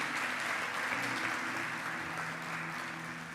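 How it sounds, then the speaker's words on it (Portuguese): A church congregation applauds young people being trained to evangelize, giving a continuous, even round of clapping from many hands that stays fairly loud across the whole stretch. "Aplauda esses jovens que estão sendo instruídos."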